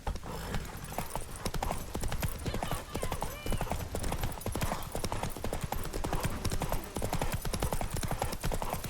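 Geralt's horse Roach gallops in The Witcher 3, hooves pounding in a fast, continuous clip-clop rhythm, close and loud, with faint game sounds mixed beneath.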